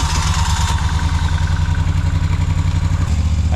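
A motorcycle engine loaded with a tent lock bag runs close and loud, a steady rumbling idle with mechanical clatter that shifts pitch briefly near the end; no one speaks.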